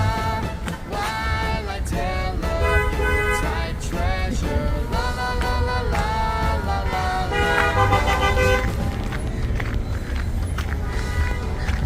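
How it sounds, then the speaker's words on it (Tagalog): Busy street traffic on a snowy day near a mall, with cars passing steadily and repeated horn toots sounding over a constant loud roar of engines and road noise. "Marami pa rin sasakyan, traffic pa rin"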